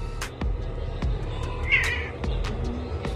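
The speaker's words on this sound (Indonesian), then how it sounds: "Kucing pinter, disuruh Aki langsung nurut" A cat meows once at close range, a short tonal call rising out of a background of soft knocks and room noise, with no one talking.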